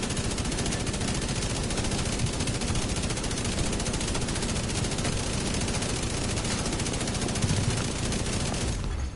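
Nonstop Bullet King machine gun fire in The Division 2, a loud, dense, unbroken stream of rapid shots that runs the whole time and cuts off abruptly at the end.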